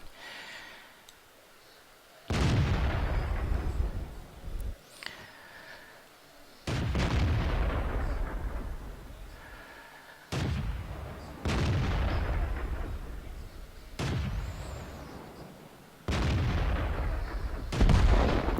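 Heavy tank cannon shots in World of Tanks, about five booming blasts spaced a few seconds apart, each with a long rumbling decay over a low engine drone.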